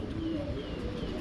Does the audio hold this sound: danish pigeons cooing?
yes